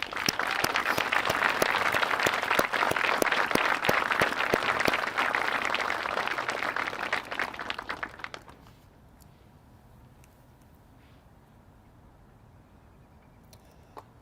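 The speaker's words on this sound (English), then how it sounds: "If we could give them one more nice round of applause." Audience applause at a corrections academy graduation ceremony, a dense, loud wash of many hands clapping that fills the room for about eight seconds, then stops abruptly and leaves only faint room noise.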